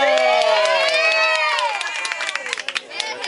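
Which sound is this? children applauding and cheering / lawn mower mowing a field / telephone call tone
children applauding and cheering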